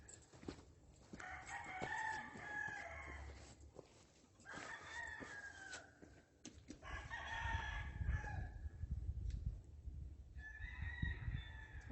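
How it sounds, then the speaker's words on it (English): Roosters crow repeatedly, one long call after another from a short distance, over low rumbling background noise, in the countryside near Huitzilac, Morelos, Mexico. "Everybody's got roosters, and a lot of them too."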